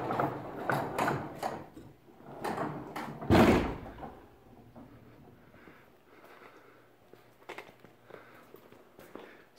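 A 12-foot aluminum V-nose contractor trailer's ramp door is worked open: a run of metallic clunks and rattles, then one loud heavy bang, followed by quieter shuffling and knocks.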